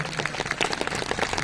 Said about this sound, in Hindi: एक बार अपने लिए तालियां बजा दीजिए